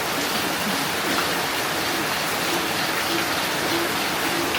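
Heavy monsoon rain drums on a metal sheet roof over a Konkan home kitchen. It makes a dense, loud and unbroken hiss that fills the whole stretch with no pauses.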